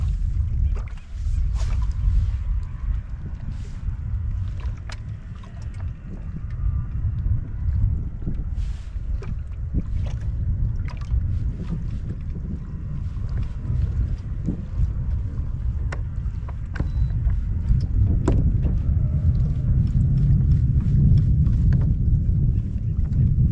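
Steady gusting wind buffets the microphone out on open water around rocky islands during spotted bass fishing, a continuous low roar with faint splashes and occasional clicks.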